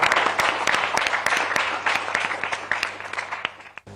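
Scattered applause from a small group during a television interview with Nawaz Sharif and Kulsoom Nawaz: distinct individual claps at a moderate level, thinning out and fading to quiet near the end.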